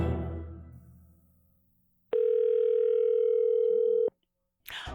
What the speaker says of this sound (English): I spoke with John on the phone earlier this week